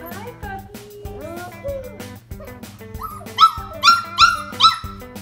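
Young puppies yip and bark in quick high-pitched bursts close by, with whimpering squeals mixed in and a person talking softly among them.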